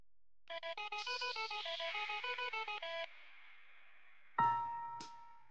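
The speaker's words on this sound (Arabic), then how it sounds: "تليفون مين اللي بيرن بقى" A phone rings with a rapid, repeating electronic melody of pulsed tones for a few seconds, followed by a brief hum and then a couple of sharp bright clanging hits, with no speech.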